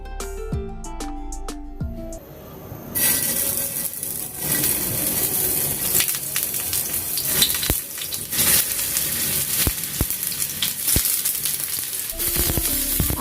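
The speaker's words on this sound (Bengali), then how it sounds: "তাহলে ইজিলি ভেজে নিতে পারবেন।" Beef gola kababs fry in hot oil with a steady, close, broadband sizzle. Sharp crackles and pops come through it, and the first two seconds hold a quieter tonal sound before the frying begins.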